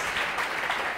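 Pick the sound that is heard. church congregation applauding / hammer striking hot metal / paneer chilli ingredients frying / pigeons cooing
church congregation applauding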